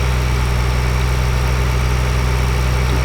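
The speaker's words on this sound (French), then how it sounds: "On va ranger le tracteur" A tractor idles in a farming video game, its engine giving a steady, continuous low rumble with an even drone throughout and no voices over it.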